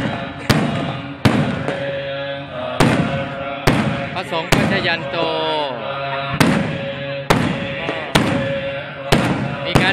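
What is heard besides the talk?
fireworks set off at a temple festival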